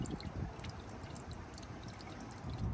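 Toyota transmission fluid drains steadily into a drain pan, a continuous soft pouring and trickling with faint gurgles and no talk.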